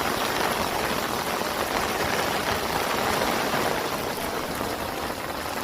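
Heavy rain drums steadily on an umbrella in a village during rainy-season net fishing, a dense, continuous hiss that stays loud and close throughout with no break.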